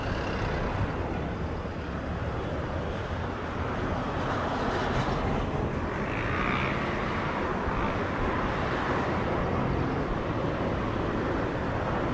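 Jet airliner at Montego Bay airport, Jamaica, heard as a steady, broad roar that swells and fades slightly over about twelve seconds, fairly distant with no talk over it.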